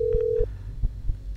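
A single steady telephone tone sounds for under half a second in a stalker horror video game, followed by faint low thumps over quiet background.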